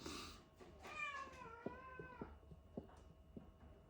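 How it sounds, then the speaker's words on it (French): A pet cat lets out one drawn-out, rising and falling meow, fairly faint and indoors, followed by a few soft clicks and taps in a quiet room. "Eh ben, on a entendu mon chat."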